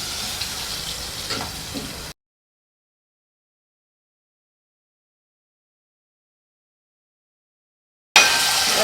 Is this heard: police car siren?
no